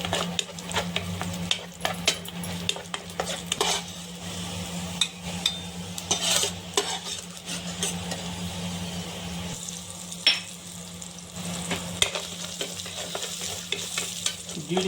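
Raisins fry in hot ghee in a small pan for a Telugu-style coconut halva, giving a steady, close sizzle broken by scraping stirs and small spatters.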